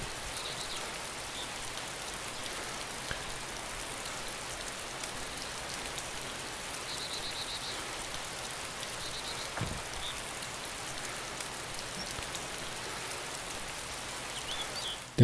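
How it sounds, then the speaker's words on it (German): Steady rain falls throughout in the video game DayZ, a dense, even hiss of drops on surfaces lasting the whole stretch at constant moderate loudness, with no talk. "Weil der Regen Sound doch ein wenig übertönt."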